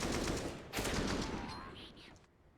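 Gunfire in a CS:GO match between BIG and Heroic on Vertigo, rapid bursts of rifle shots in quick succession, fairly faint and fading out toward the end.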